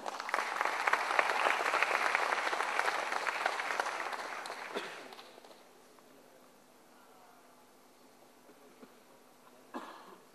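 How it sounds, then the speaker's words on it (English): An audience at a BSE and S&P Dow Jones Indices partnership announcement applauds a guest of honor, with strong steady clapping that dies away after about five seconds into a quiet hall with a cough and faint rustle. "Let's have a huge round of applause for him."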